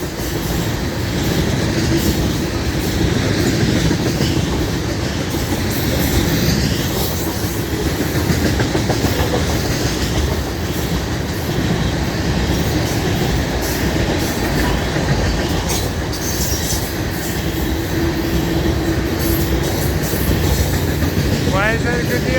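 An FEC freight train pulled by two diesel locomotives rolls past close by, a loud sustained rumble with clattering wheels and occasional squeals running unbroken throughout.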